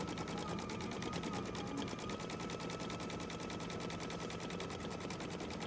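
Sewing machine stitching a zigzag on a pet stocking, a fast, even, rapid-fire mechanical chatter running steadily and close up for the whole stretch.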